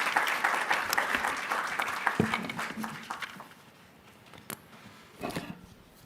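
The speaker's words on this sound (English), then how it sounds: "Can we clap for him, please?" Audience applause at a regional sustainable energy conference session, a steady wash of clapping that thins and fades toward the end, followed by a brief faint flurry.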